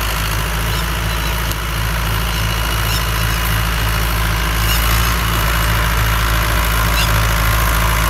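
A 2004 Fiat 640 tractor idling with a 60-cutter rotavator attached, a loud, steady low rumble with a pulsing engine throb throughout, heard close and alone.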